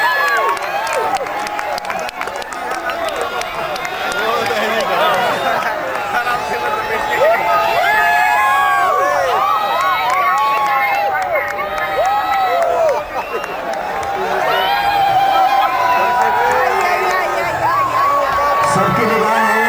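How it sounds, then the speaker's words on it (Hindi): Lively crowd at an outdoor competition between teams, including foreign tourists, cheering, whooping, clapping and shouting, with children's voices mixed in. The din is loud and continuous, with excited calls rising over the clapping. "जोरदार स्वागत करें, तालियां बजाएं, उत्साह बढ़ाएं इनका"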